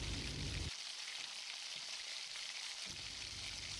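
Chili flakes sizzling in hot oil while being stirred, a steady crackling fry with a brief deeper rumble at the start and again near the end, close by with no talking.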